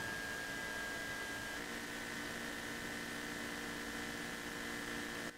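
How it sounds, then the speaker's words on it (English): A Mazda BT-50's electric fuel pump primes near the tank, producing a continuous steady whirring hum with a constant whine throughout, no speech. "I'll hook you up near the tank so you can hear it priming."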